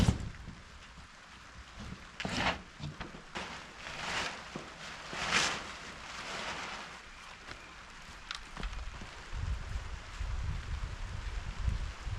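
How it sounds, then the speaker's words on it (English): Rain falls on tarps over a container house under construction, a steady diffuse patter with scattered louder slaps and some wind rumble, close and moderately quiet, with no voices. "Tarps aren't working, it's raining"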